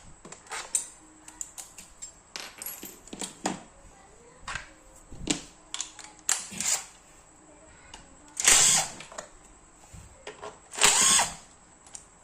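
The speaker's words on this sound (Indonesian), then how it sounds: "Kita pakai impact biar cepat." An impact wrench removes bolts from a car CVT casing, giving repeated short, loud hammering bursts separated by pauses, with clicks and handling noises in between.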